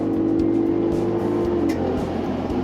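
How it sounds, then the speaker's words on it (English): A 2023 Ford Bronco Raptor's engine revs hard with a deep, rumbling exhaust roar, holding loud and steady with throaty pulses throughout. "Let that exhaust kick out. That sounds real good."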